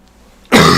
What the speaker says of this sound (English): so sorry about the coughing